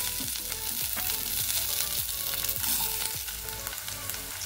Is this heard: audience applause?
no